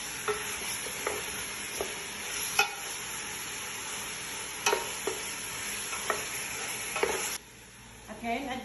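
Meat frying in a pan for kabsa rice is stirred, a continuous close sizzle punctuated by several sharp scrapes and knocks of a utensil, ending with a sudden drop to quieter sizzling near the end.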